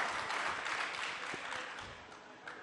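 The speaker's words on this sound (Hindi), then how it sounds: "एक बार तालियों के साथ हमारे मंत्री जी का आप लोग स्वागत करें" Faint, steady wash of audience clapping welcoming a state minister at a conclave in Darbhanga, Bihar, sustained for a few seconds with no speech over it.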